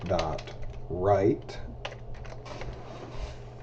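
Code being typed on a computer keyboard: close, crisp keystrokes in irregular runs, with a short stretch of talking near the start and a faint hum beneath.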